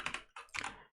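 Two or three quick, crisp keystrokes on a computer keyboard, close and quiet, ending with a single key press.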